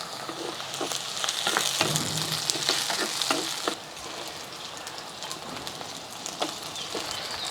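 Tomatoes and chopped brinjal fry in a clay pot, a continuous crackling sizzle with sharp stirring clicks that settles into a softer, steady hiss partway through.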